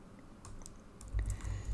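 A few computer keyboard keystrokes for copy and paste, quiet clicks scattered over a soft room hush, with a low thump near the end.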